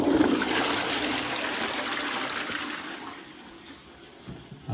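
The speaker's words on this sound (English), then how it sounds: "Do the toilet to flush." A toilet flushes in an empty house, a loud rushing gush of water that gradually tapers into trickling and refilling, heard close with no talking over it.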